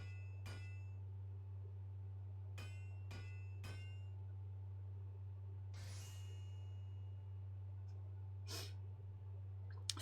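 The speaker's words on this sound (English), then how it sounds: "a hammer bashing on a forge is one of my least favourite sounds." Sharp metallic clangs of a hammer striking a forge in Final Fantasy XIV ring out in an irregular sequence of separate hits, fairly faint, over a constant low electrical hum, with a breathy hiss partway through.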